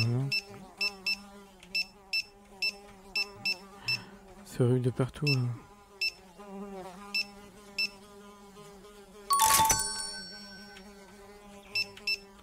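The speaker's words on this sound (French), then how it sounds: "y a les mouches qui me stressent" Flies buzzing around a shop in the supermarket simulation game My Supermarket, sustained droning hum layered with repeated short electronic beeps and a brief harsh burst, while a person talks over it.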